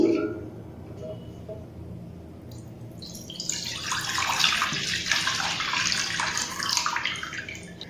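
Full-fat milk pours into a bowl in a steady liquid stream, starting after a few seconds and continuing to the end, close and fairly loud over a quiet kitchen background.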